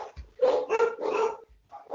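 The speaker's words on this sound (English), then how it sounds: "Doggies are barking, but it's okay." Dogs barking close by in a quick run of sharp barks, with a short pause before another starts.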